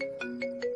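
A phone ringtone in a movie plays as a short, clear electronic tone, repeating in quick regular pulses with no talk over it.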